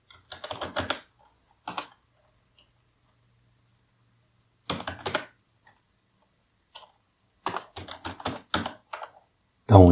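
Bursts of typing on a computer keyboard entering a git checkout command, quick clustered keystrokes in several short runs separated by pauses, close and clear, ending with a louder thump.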